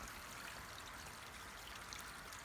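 Water poured steadily into an azolla pond to top it up, a continuous, faint splashing stream with no breaks and no voices over it.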